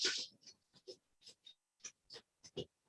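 A deck of playing cards is handled and shuffled in a quiet room, giving a string of short, soft riffles and snaps spaced at irregular intervals, close and faint.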